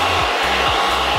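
A handheld blow dryer runs loud and steady at close range, a continuous whooshing hum with a faint repeating wobble, used while putting on a wig.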